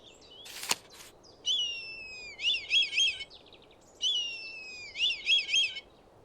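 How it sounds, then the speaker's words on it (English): Eurasian hobby calls from the Wingspan game, two clear repeated phrases of high, thin whistled notes sliding down into a quick burst of trilled chirps, preceded by a sharp click, over faint background hiss. "Eurasian hobby. This falcon catches insects and birds in flight."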